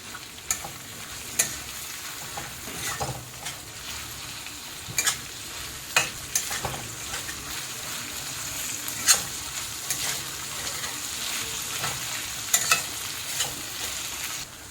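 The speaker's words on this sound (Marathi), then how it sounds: "आता आपण टॉमॅटो टाकूया टॉमॅटो पण चांगला एकजूट करून घ्यायचा" Tomato is stirred into already sautéed onion in a hot pan, giving a soft steady sizzle broken by sharp, irregular spatula knocks and scrapes against the metal.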